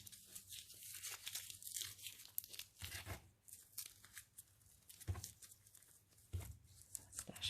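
Crunchy pieces are being cut up for making slime, giving a run of crisp tearing and crinkling crunches with several sharper snips at irregular intervals, close and fairly quiet.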